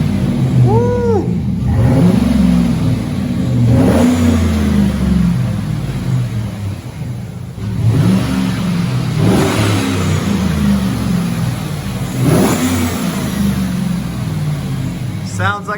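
A 2013 GMC Sierra pickup truck engine revs up in repeated surges, rising and falling loudly several times, with voices and a whoop mixed in.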